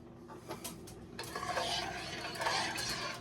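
A spoon stirs chicken and wild rice soup in a pot on the stove, a soft, close scraping and sloshing that grows steadier after the first second.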